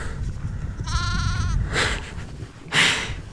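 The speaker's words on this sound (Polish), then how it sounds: "Kolejna owca." Two or three sheep bleat outdoors in the Faroe Islands, one with a wavering harmonic cry, the others short and breathy, over steady wind and background rumble.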